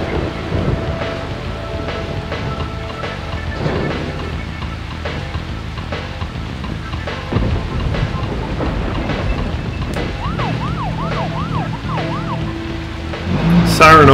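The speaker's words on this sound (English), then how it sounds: "Siren also takes up stamina." A police car siren from the video game Deadly Premonition wails in a rising and falling pattern over a steady engine and road drone, with game ambience throughout and the sound swelling louder near the end.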